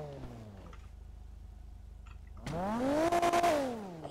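A car fitted with a 2JZ engine in the FiveM GTA video game revs hard. A low idle rumble gives way to a loud, rising rev that holds with a few sharp stutters near the top, then falls away.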